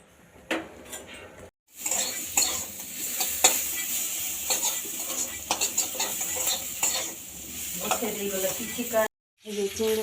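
Prawn heads fry with onion, chili and cumin in a pan for a shrimp-shell paste, giving a steady close sizzle broken by metal spatula scrapes and clinks, with brief gaps.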